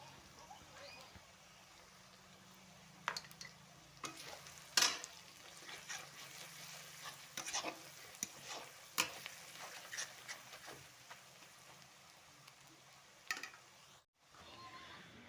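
Spices with turmeric powder frying in a pan while being stirred for a simple mutton curry, with steady sizzle under scraping stir strokes and a few sharper clanks, fairly close.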